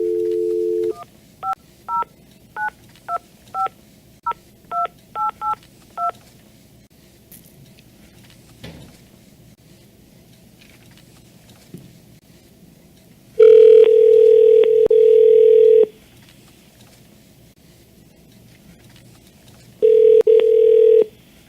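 Telephone keypad tones beep in a quick run of about ten presses, then a ringing line sounds in two long bursts with a pause between, all clear and fairly loud over quiet background.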